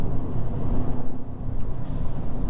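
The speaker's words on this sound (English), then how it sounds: "I love this blow off and the induction noises." Sustained engine and induction roar from a 2022 Ford Maverick Lariat pickup's turbocharged engine under load, loud and continuous with a brief whooshing blow-off near the end, heard from inside the cab.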